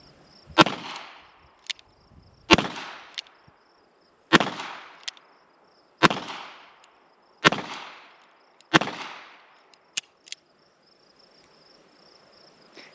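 A Henry Big Boy revolver fires .38 Special rounds outdoors. Six sharp, evenly spaced shots come about two seconds apart, each with a short echoing tail, followed by a few fainter clicks.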